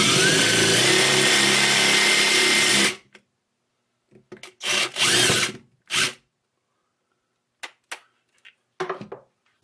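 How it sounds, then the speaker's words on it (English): A power drill bores out a rivet on a carbon trekking pole handle, a loud continuous whine for about three seconds, then several short spurts of drilling separated by silence. "next thing we're going to do is drill out this rivet here."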